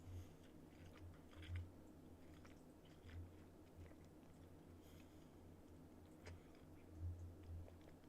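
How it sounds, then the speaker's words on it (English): Close, quiet chewing and crunching of McDonald's chicken nuggets and fries, soft irregular bites and squishy mouth sounds recurring every second or so against a faint background hum. "So excuse my chewing."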